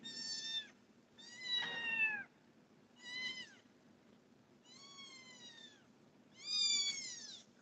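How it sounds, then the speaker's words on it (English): A cat meows five times in a row, drawn-out and plaintive with pauses between each cry, fairly close over a faint steady room hum and no talking. "Incidentally, I do not have a name for this cat."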